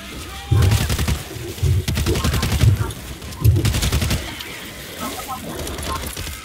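Bursts of automatic gunfire ring out in the zombie shooter World War Z on insane difficulty, several loud rapid volleys separated by brief pauses, with a voice talking in between.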